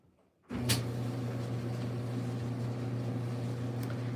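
A GE clothes dryer starts up after a baffle replacement and runs with a steady, loud low hum and drum rumble, with no talk.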